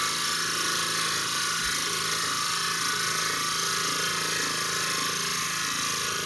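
A power drill bores a center hole into a wooden dowel spinning on a lathe, a steady loud whirring grind with friction, continuous and close throughout.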